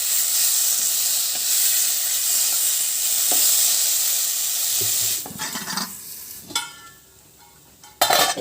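Boiled potatoes fry in a pan with salt and turmeric for a masoor dal curry, a loud continuous sizzle that gives way to stirring scrapes and clatter near the end.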